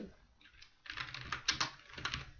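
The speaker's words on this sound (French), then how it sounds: "désolé pour ce bruit avec le clavier" Quick bursts of clicky typing on a computer keyboard, close and moderately soft, a few rapid key runs separated by short pauses.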